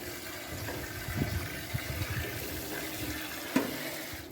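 Rinse water from washed rice is poured off into a sink in a steady, close trickle and splash, with a small knock near the end.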